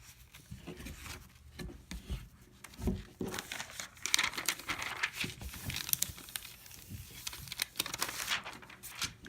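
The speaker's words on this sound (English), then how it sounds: "peel away the protective coating, place it on a flat surface" Protective backing film is peeled off sticky embroidery stabilizer, making a close, continuous crinkling and tearing rustle that grows louder and busier partway through, with no voices.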